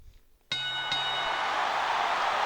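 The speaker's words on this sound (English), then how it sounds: "Once that bell rings." A single bright metallic ring of the bell in the WWE SmackDown video game, struck once with a second quick tap, ringing on over loud steady arena crowd noise.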